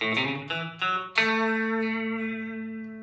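Electric guitar notes from a major pentatonic scale, with country-style harmonic-rich tone, ring out one after another, a few plucked in quick succession before a final note sustains and slowly fades.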